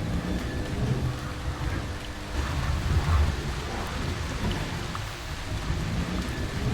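Steady heavy rain in a horror video game pours down with low rumbling underneath, a continuous dense wash of drops with no voices.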